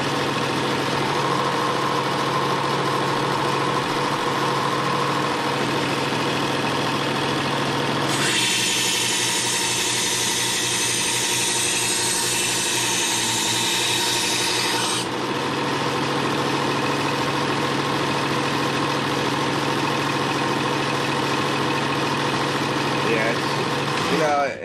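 A power grinder reprofiles the edge of a Schrade Mini Bolo II knife, a steady loud whirring motor throughout with a harsher, brighter grinding stretch in the middle as the blade meets the abrasive.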